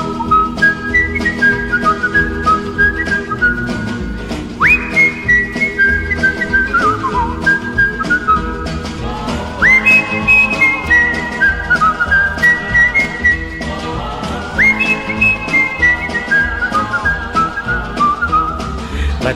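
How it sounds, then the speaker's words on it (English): A person whistles a cheerful, bouncy tune, clear and close, with short notes that rise and fall in repeated phrases. No talking. "Let's all go along and whistle a song the way the happy whistler goes."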